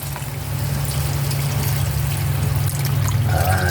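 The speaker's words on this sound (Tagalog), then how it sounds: "Tapos, lagyan na natin ng tubig." Water pours into a pot of simmering menudo, a steady close trickle and splash over a low bubbling hum that continues throughout and grows slightly busier toward the end.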